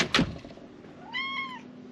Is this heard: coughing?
no